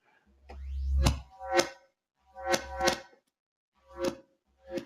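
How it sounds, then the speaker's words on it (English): Swelling reversed tones from a KONTAKT 5 sampler patch that fade in and cut off abruptly, a few separate phrases with a low bass rise in the first, sounding backwards and dreamy. "we can always reverse our entire patch,"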